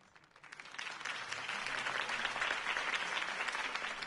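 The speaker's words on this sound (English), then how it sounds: "could have heard that applause" Crowd applause follows a campaign speech by Harvey Dent in the Batman Telltale video game, swelling quickly from quiet into sustained, even clapping from a sizable audience.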